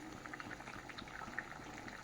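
Taro and live-fish curry bubbling in a pot, a soft steady boil with small popping bursts at low level throughout, no voices.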